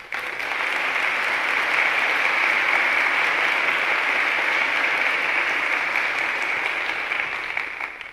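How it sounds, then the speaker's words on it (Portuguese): Congregation in a church breaking into sustained, even applause that swells in quickly and holds steady for several seconds before tapering slightly, with no voices heard over the clapping. "Pode aplaudir o Senhor."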